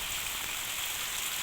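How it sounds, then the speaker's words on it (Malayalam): Steady rain falls outdoors in a continuous even hiss, with the dense patter of drops carrying throughout at a moderate, distant level. "കാറ്റും മഴയും തണുപ്പും."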